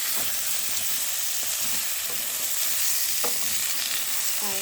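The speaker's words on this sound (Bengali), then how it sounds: "হালকা ভাজা ভাজা হয়ে গেলে শাকগুলো আমি দিয়ে দেবো।" Spinach fries in a pan with a constant loud sizzle, broken by repeated spatula scrapes and knocks as the leaves are stirred close up.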